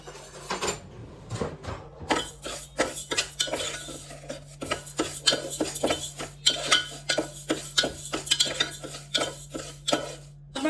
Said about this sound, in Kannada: ಒಂದು ಕುಕ್ಕರ್ಗೆ 1 ಕಪ್ ಹೆಸರು ಬೇಳೆ ಹಾಕಿ ಫ್ರೈ ಮಾಡ್ಕೊಳ್ಳಿ, ಹುರ್ಕೊಳ್ಳಿ ಅದನ್ನು